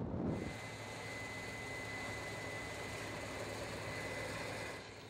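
A large soybean combine harvester with a big diesel engine runs steadily, a constant loud mechanical roar and whine with a sustained tone, a brief thump at the start, no voices.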